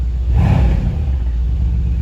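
A Mercedes-AMG C63s engine revs with its Valvetronic exhaust open, a loud close rumble that swells briefly then settles back to a deep idle.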